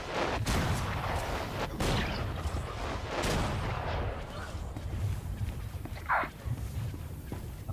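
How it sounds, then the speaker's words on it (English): Tank cannon fire in a video game, heavy booming blasts that repeat through a dense rumbling battle bed, with a voice talking over the noise. "I have to use the tank"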